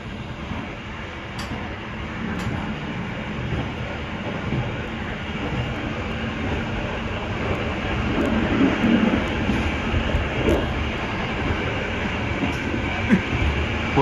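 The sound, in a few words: train with two locomotives passing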